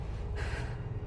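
A female character in the Guild Wars 2 video game gasps sharply, then keeps up heavy, steady breathing through the short stretch, close and fairly quiet, with a faint ambient rumble beneath and no talk.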